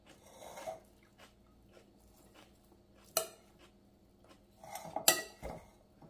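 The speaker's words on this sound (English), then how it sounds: "Let's give that a stir." Spoon stirring pasta salad with peppers in a bowl, heard as a few soft scrapes and sharp clinks of utensil against the dish, scattered and fairly close, with quiet pauses between them and no talking.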